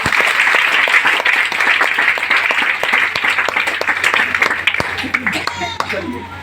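An audience at a DXN business meeting breaks into loud, sustained applause: dense, steady clapping that holds for several seconds, then thins out slightly toward the end.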